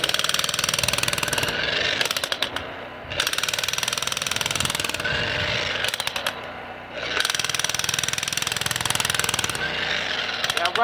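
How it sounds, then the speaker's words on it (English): Vevor electric demolition hammer jackhammering into ground toward bedrock for an adobe and stone cabin, a loud close continuous rattling hammering in long bursts with brief pauses. "But I'm going to start jackhammering away."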